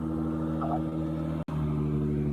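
Car with a Nissan RB engine revving, played back through a speaker: a steady loud engine drone with strong low harmonics holding throughout, briefly cut by a sharp dropout midway.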